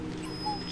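A dog gives a brief, thin whimper, a short high whine at close range against a steady background of ambient noise.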